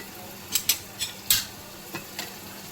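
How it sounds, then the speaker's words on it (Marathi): Masala for a biryani side gravy fries in a pan on a home stove, soft sizzling under a handful of sharp scraping and clinking stirs from a spoon against the metal, with no talking. "हा मी मसाला मस्त असा तळून घेते"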